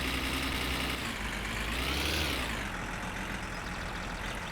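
A car engine in My Summer Car pulls away in first gear, a steady rumbling drone that rises briefly as it revs and then settles, heard alone and fairly close.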